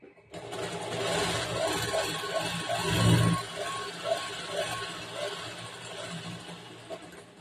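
A sewing machine stitches a straight seam along the border of a lined blouse, a steady close mechanical whir with a rapid even needle rhythm that runs throughout, swelling slightly near the middle.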